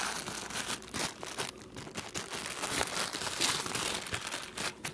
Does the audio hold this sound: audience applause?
no